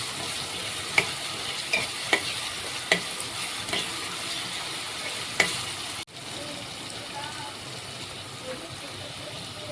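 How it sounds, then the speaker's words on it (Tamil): Potatoes, onion and tomato fry in hot oil in a pan, a steady close sizzle broken by the scrape and tap of a spoon while stirring, and the sound changes partway through. "வெங்காயம் தக்காளி வேக எண்ணெயிலே உருளைக்கிழங்கு போட்டுக்கலாம் ஃப்ரெண்ட்ஸ்."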